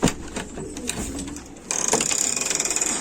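Pigeons coo in a loft, soft repeated calls close by, joined halfway through by a rhythmic pulsing mechanical hiss over the birds.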